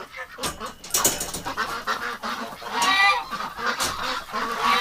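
Several ducks honk and quack nearby in overlapping, uneven calls, fairly loud and continuous, outdoors in winter at about minus 17.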